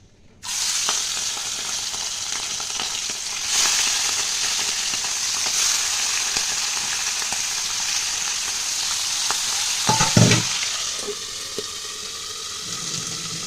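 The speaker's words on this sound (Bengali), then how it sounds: "তো এই দেখো তেল গরম হয়ে গেছে, দিয়ে দিচ্ছি চিংড়ি মাছগুলো।" Shrimp drop into hot oil for ol chingri and fry with a loud, steady broadband sizzle. The sizzle carries on throughout, with a few clattering bumps and a brief stir near the end.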